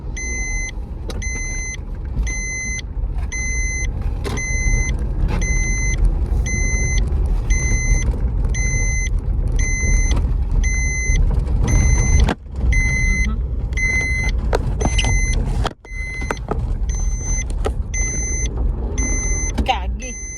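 A car's seatbelt warning chimes in a steady, repeating run of high electronic beeps over a constant low cabin rumble, with people talking inside the car.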